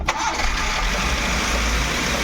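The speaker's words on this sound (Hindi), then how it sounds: "इंजन स्टार्ट करेंगे" A Maruti Suzuki Eeco van with an engine misfire fault cranks and starts up close, then settles into a steady, rough idle.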